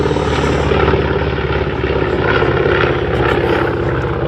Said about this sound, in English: as the SBD Dauntless makes its final pass